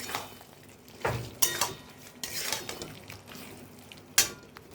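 Paneer and fried potato being stirred in a pan for a vegetarian shahi paneer, with several close clinks and scrapes of a spoon against the pan over a soft background sizzle.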